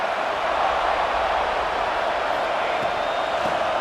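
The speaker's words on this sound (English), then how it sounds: "It's early, but this crowd is fired up. Listen to this noise here." In a college football video game, Ohio State against Texas A&M, the stadium crowd sends up a constant, dense roar of noise early in the game, steady and fairly loud with no breaks.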